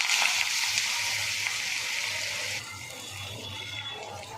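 Green onions go into hot oil already crackling with popped mustard seeds and asafoetida, giving a bright, even sizzle that drops a little partway through, steady and close with no voices.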